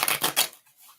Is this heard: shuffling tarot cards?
yes